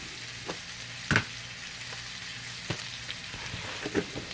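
Oregano and salt are stirred into Italian sausage frying in a pan. A low steady sizzle runs under a few distinct spatula clacks and scrapes, with no voices.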